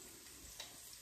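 Garlic sizzling in fat in a pan alongside softened shallot, a faint steady crackle with a few small pops over about a second.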